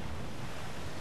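Steady wind and surf at sea around a pirate sailing ship, the Jackdaw, in Assassin's Creed IV: Black Flag, a continuous even rush of air and waves with no talk.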